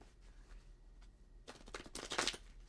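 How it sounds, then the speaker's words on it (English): A deck of tarot-style reading cards is shuffled at close range, a quiet riffle of rapid papery flutters that rises in the second half of the short clip. "give it a little shuffle so we don't have last night's reading."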